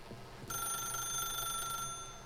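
A telephone rings in The Stanley Parable, a bright electronic ring that starts abruptly and holds steady and loud for over a second before stopping.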